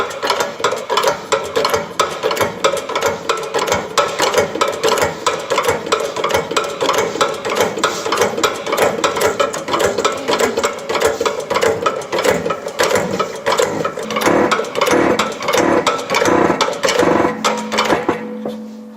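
A bushing is pressed into a PAL50001 bearing on a Quivogne Fleo-Fleo, heard as a long run of rapid, close mechanical clicking and grinding with a rhythmic ratchet-like pulse that grows heavier near the end, then stops.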